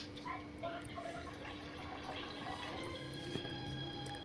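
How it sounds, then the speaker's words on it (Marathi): Indrayani rice is rinsed in water in a home kitchen, giving faint sloshing, trickling and dripping sounds with occasional clinks, low and close. "हे इंद्रायणी तांदूळ आहेत, हे 2 पाण्याने आपण स्वच्छ धुवून घेऊ"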